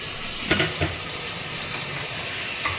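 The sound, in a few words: mutton sizzling as it is added to the curry pan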